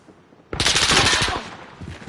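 Video game gunfire: after a quiet start, a loud, rapid burst of shots rattles in quick succession for over a second, then trails off into a fainter echo.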